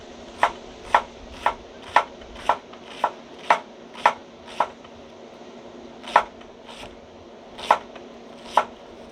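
A knife chops half an onion on a cutting board, about a dozen crisp, evenly spaced strikes, close and clear with no talking.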